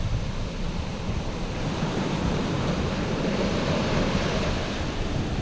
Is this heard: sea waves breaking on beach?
yes